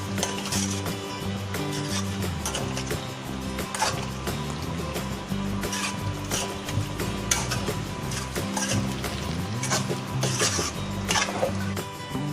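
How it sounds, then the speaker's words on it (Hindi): Cheesy baby potatoes being stirred and tossed with black pepper and mixed herb seasoning, with steady scraping and clinking of a utensil against a pan alongside a constant low hum, close and continuous with no talking. "अब इसको हम अच्छे से मिक्स कर लेंगे।"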